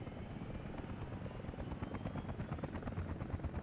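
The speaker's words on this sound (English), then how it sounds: "helicopter transport for the workers" A helicopter in the Workers & Resources transport-building game flies past with a steady, loud rotor chop: a continuous rhythmic beating thrum throughout, with no talking.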